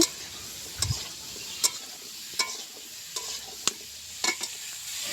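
Pointed gourd sizzles quietly in a pan while a spatula stirs, giving several sharp scrapes and taps at irregular intervals.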